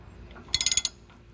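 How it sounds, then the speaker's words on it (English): A ratchet turns a 38 mm socket on a utility trailer's axle nut while a new axle and hubs go on, giving a short, close burst of about six rapid metallic clicks. "I had to go hunt down a massive socket. This is a 38 millimeter."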